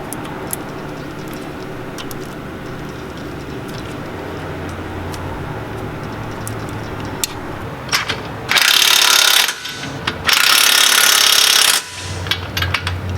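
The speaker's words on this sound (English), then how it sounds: "tighten up these lower nut and bolts, and then tighten up the top nuts" A power tool tightens nuts and bolts on a Subaru Crosstrek lift kit, with clicking and mechanical rattles followed by two loud sustained impact-driver bursts close by, then more ratcheting clicks.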